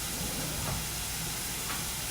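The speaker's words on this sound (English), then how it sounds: "That's starting to sizzle." Continuous loud hissing sizzle, steady and close, like food frying in a hot pan, with no talking.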